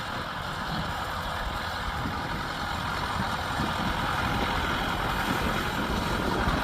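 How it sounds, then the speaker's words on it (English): An old 770 tractor with around 15,000 hours on it, engine idling steadily: a continuous low, rough rumble with no change in speed, close and moderately loud, alone without talk. "The old 770 just purring away still."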